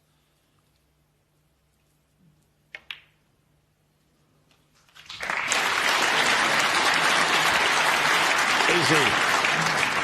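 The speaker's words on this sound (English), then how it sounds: "he gets a round of applause" Snooker crowd at the Crucible Theatre during the World Championship bursts into loud, sustained applause after a quiet stretch broken by a couple of sharp ball clicks, with a commentator's voice faintly audible under the clapping.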